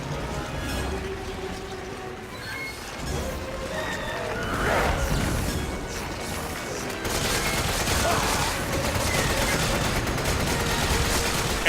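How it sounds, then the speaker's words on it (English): Continuous rapid gunfire in Resident Evil 5 during a finale fight, dense crackling shots and impacts layered over rumbling game noise, loud and steady throughout. "Stop shooting him, stop shooting him."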